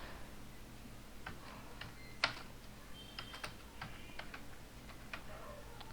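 Soft, sparse keyboard typing indoors, scattered irregular clicks with brief pauses and one sharper tap, faint and close over a low steady room hum, no voices.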